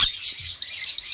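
A hand-fed, tame female sun conure parrot gives a brief, high, shrill chirp. The call is close and fairly loud, and nothing else is heard.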